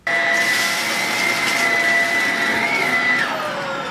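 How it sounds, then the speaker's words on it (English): A vacuum cleaner sucks up leftover laptop screws after a laptop repair, a loud, steady whining drone that runs nearly unbroken for the whole stretch, with a slight shift in pitch toward the end. "There is usually some excess screws that you can vacuum."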